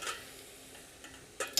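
A pan of mushroom risotto gives off a soft, steady sizzle with light stirring scrapes and a few brief clinks near the end, heard up close with no voices.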